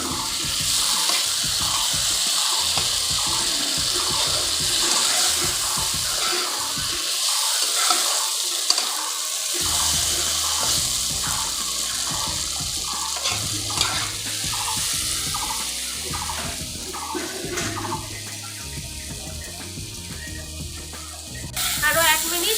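Paneer and pointed gourd curry being sautéed in a pan, with steady sizzling and the scrape of stirring throughout and a brief quiet gap partway through, while a voice talks over it.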